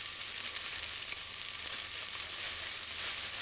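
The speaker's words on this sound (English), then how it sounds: "and just allow it to saute for a couple of seconds, for about 20 seconds" Diced onions, scallion and a sprig of thyme sautéing in coconut oil in a pan: a steady, even sizzle with a constant crackle throughout, fairly close and alone without any talk.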